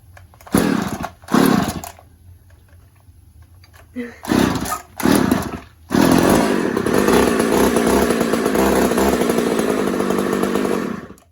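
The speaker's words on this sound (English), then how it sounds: "Good news is we put some fresh gas in this bad boy. And started right up." An Echo 280e chainsaw freshly fuelled with gas, giving a few short, loud revving pulls before its small two-stroke engine settles into a sustained, close, buzzing roar.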